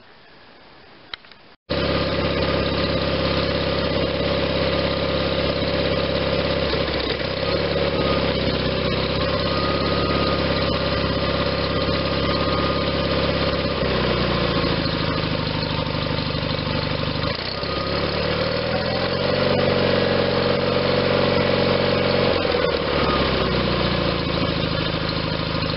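An Onan engine on a John Deere 318 garden tractor fires up after a short quiet pause and settles into a steady, loud, slightly knocking idle that runs on alone for over twenty seconds.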